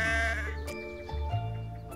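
Sheep in a pasture bleat loudly and close by, a few wavering calls overlapping one after another with no talk.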